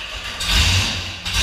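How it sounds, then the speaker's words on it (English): A 650-horsepower Cleveland engine in a garage fires up for the first time, a loud, close mechanical rumble that swells abruptly and then holds a rough, steady roar. "Dulcich is always all freaked out when we fire up one of our engines for the first time."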